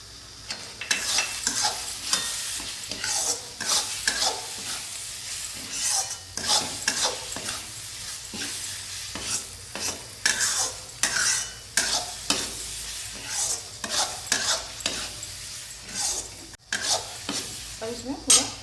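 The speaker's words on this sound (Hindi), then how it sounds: "अच्छे से भूजिए," A spoon stirs palak paneer masala frying in a pan, rhythmic scraping strokes over a constant close sizzle, repeating steadily throughout.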